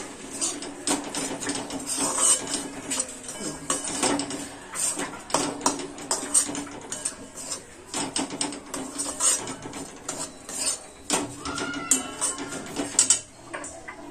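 Ground sesame, poppy seeds and grated coconut being stirred together in a bowl for Nagpur-style pudachi vadi: a spoon scrapes and clinks against the bowl in a steady run of small, close knocks, with no talking.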